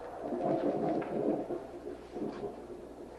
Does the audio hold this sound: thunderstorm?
yes